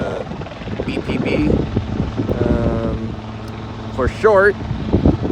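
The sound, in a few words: Helijet helicopter landing on helipad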